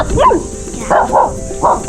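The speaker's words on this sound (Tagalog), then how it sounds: "Ayan yung mga aso ko, guys." A few dogs bark in short bursts, three separate yapping clusters at moderate distance, with light background noise between them.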